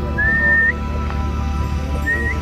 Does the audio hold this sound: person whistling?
yes